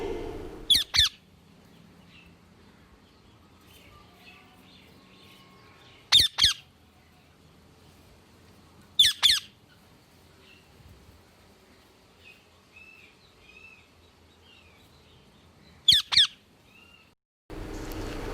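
Sharp, brief bird calls in four separate bursts, spaced several seconds apart, over a quiet background.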